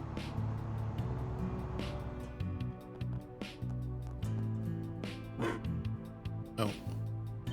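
A dog barks a few times in the video game Trails Through Daybreak, short yelps scattered across steady game music and background ambience, with no talk in the clip.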